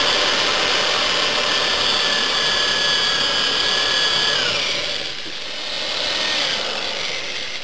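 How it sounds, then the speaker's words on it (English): A power drill bores holes into the top of a sealed lead-acid automotive battery, giving a close, continuous high whine that eases slightly near the end, with no talking. "So the next thing we're going to do is we're going to drill the holes in the top."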